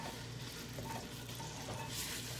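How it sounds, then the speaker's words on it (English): Faint, steady sizzling of food frying in a pan, a soft continuous crackle with no voices. "we're starting to sizzle here"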